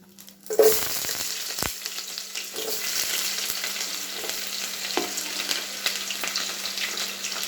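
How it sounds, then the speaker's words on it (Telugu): Chopped onions dropped into hot oil in a pan for bagara rice, a sharp burst of sizzling at the start settling into a steady, close frying hiss with light stirring scrapes, no talking. "ఇప్పుడు ఇందులోకి మనం కట్ చేసి పెట్టుకున్నటువంటి ఆనియన్స్ అనేది అయితే వేస్తున్నాము"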